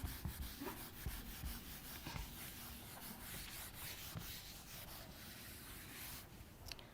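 Writing is rubbed off a board with a steady scrubbing and rasping, its strokes rising and falling in an uneven rhythm, close and quiet, with no one speaking.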